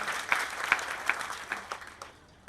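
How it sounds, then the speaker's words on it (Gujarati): An audience claps together at a Gujarati devotional bhajan gathering, a short burst of fairly close, even applause that thins out toward the end. "જોરદાર તાળીઓ."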